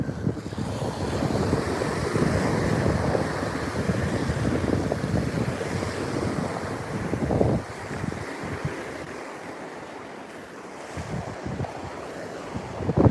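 Waves wash onto the beach at Indian Shores, with a steady surf rush and heavy wind buffeting the microphone. The sound eases briefly in the middle and then rises again.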